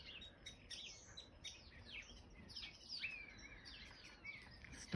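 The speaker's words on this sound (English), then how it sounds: "Starling chatter, sparrow chatter." Starlings and sparrows chatter in a small woodland garden around a bird table, a faint, busy stream of overlapping high chirps and tweets throughout with no voices.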